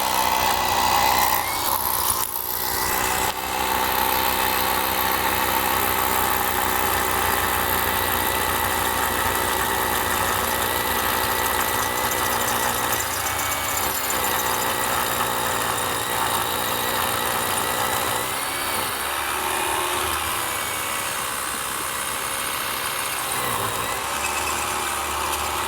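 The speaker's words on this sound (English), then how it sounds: "we're going to drill in roughly about 3 or 4 inches" A continuous loud grinding drone from a power drill boring steadily into a concrete footing, running without pause for the whole stretch, close by.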